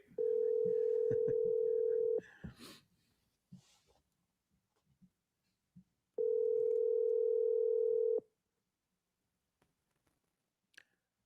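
A telephone dial tone sounds in two steady two-second bursts separated by a pause, loud and close, with faint clicks and handling noise of dialing between them and no talking.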